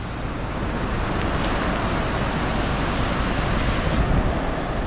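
Steady wash of surf breaking at a small surf spot at Grand River, Toco, Trinidad, during a tropical storm, a continuous even roar mixed with wind noise on the microphone, no talking.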